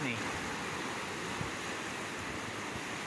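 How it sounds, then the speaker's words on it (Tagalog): Ocean waves wash steadily near a pier, a constant broadband roar of surf with some wind buffeting, heard alone without talk. "Rinig ang agos ng alon."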